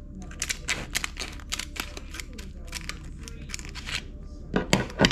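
Scissors cut into a plastic seedling pot while a pickle bush cucumber is transplanted, with a close series of sharp snips and crackles in an irregular rhythm and a louder cluster at the end.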